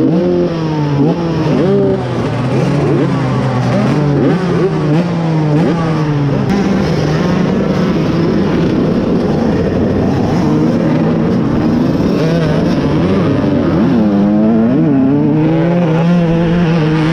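Honda 125cc two-stroke motocross bikes race at an MX and speedway reunion, engines wailing loudly and close with rising and falling revs through gear changes, several bikes overlapping in a continuous high-pitched buzz with no talk.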